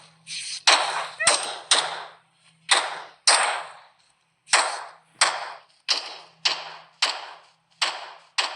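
Sharp video-game gunshots in BGMI ring out about a dozen times, single loud cracks separated by short gaps, each with a quick decaying tail and a faint hum between them.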